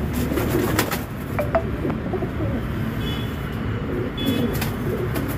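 Pakistani-breed pigeons coo softly and repeatedly among other pigeons, with low throaty calls and a few faint chirps over steady background noise.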